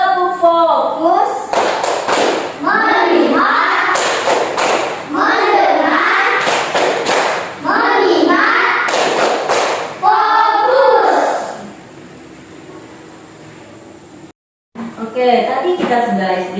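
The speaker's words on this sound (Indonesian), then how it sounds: "Tepuk fokus." A class doing a rhythmic ice-breaker clapping chant together, sharp claps and thumps in patterned bursts mixed with children's and a teacher's voices calling out, then a brief silence.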